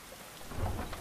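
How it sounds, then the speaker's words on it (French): A thunderstorm in the video game Skyrim, with steady heavy rain hissing and a deep rumble of thunder swelling partway through, loud and enveloping. "là, c'est l'orage total et c'est stylé, je trouve."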